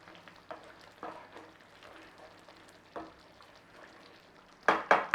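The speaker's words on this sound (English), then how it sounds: "Give it a little stir around." Chicken curry being stirred in a pot, with soft scraping and light knocks of a utensil against the pot at irregular intervals, quiet and close, ending in a couple of louder clatters.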